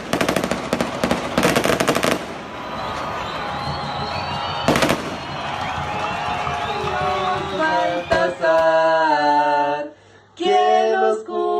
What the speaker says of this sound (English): The police are shooting to the head.